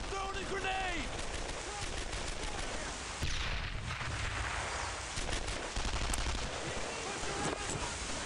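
Rapid gunfire in the World War II shooter Brothers in Arms: Earned in Blood, dense bursts of rifle and machine-gun shots crackling throughout, some loud and close, others distant, with shouted voices over the battle.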